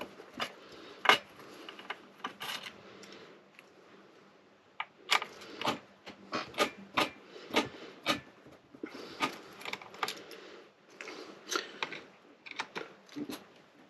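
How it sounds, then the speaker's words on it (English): Small screws being undone from the SD card daughter board of a ZX Spectrum Next with a hand screwdriver, giving close, sharp metallic clicks and ticks in irregular bursts with a quiet stretch in the middle. "Unscrew the 4 screws for the daughter board first."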